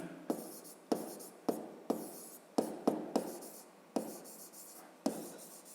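A pen writes numbers on paper in a fifth-grade maths exercise, scratching in short, close strokes, about ten distinct marks in an irregular rhythm with quiet gaps between.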